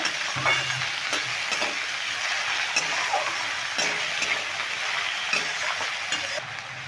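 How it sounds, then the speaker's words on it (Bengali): Cut potatoes fry in a pan for a potato and onion-flower stir-fry, a constant close sizzle broken by regular clicks and scrapes of a spatula stirring them, with no talking. "এবার এই কেটে রাখা আলুগুলো দিয়ে দিচ্ছি আলুটা দিয়ে একটু মেরে ভেজে নেব"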